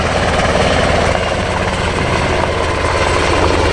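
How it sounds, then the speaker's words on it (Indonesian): A green Indonesian Air Force helicopter makes a loud, steady rotor and engine drone that stays constant and close throughout, with no talking. "Widih-widih, ini helikopter TNI Angkatan Udara."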